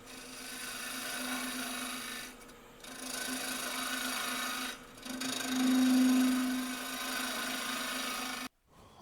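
A woodturning tool slices shavings from a wood crotch hollow form on a spinning lathe. A steady rasping scrape rides over a constant motor hum, breaking off briefly twice before the cut resumes and then stops abruptly near the end.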